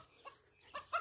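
Chickens clucking near a walking dog outdoors, a few short faint clucks spaced apart over a quiet background.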